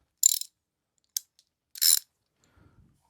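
A ratchet wrench turns a 14mm socket on a 2026 Yamaha Tenere World Raid motorcycle during an Akrapovič exhaust fit, giving three short, close bursts of rapid clicking separated by pauses.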